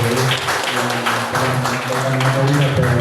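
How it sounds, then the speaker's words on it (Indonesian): Audience applause at an Islamic school gathering on learning the Qur'an with the Ummi method, a steady wash of clapping lasting throughout, with faint voices mixed in. "Beri tepuk tangan sekali lagi."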